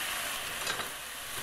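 White wine poured into a hot pan used to sauté soft shell crabs, hissing and sizzling as it deglazes, a steady broadband sizzle with faint scraping throughout.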